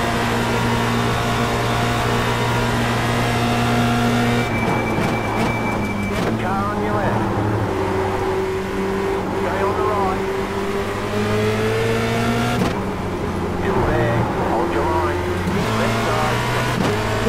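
Formule Renault 2.0 race cars slipstreaming in a pack at Spa in the iRacing sim, loud sustained engine drone with pitch rising through gears and other cars whining past, a voice talking over it.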